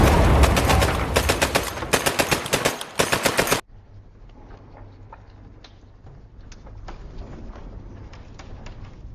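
Loud rapid bursts of machine gun fire for a few seconds, then abrupt quiet with faint scattered ticks and distant ambience.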